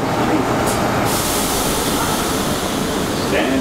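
A New York City subway J local train made up of R179 cars rumbles steadily along the track, with a loud, continuous roar and hiss that carries through the whole stretch and no one talking.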